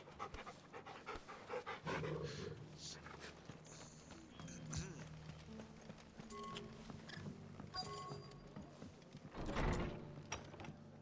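A dog pants rhythmically as it is petted in Final Fantasy XVI, heard close among in-game footsteps, clip-clopping hooves and mechanical clatter.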